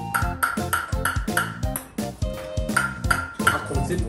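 Fingers rhythmically tap a Kinkyoku 15 ebony table tennis racket blade, giving a steady string of close, bright, ringing knocks.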